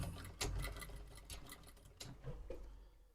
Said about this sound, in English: So we're going to stitch here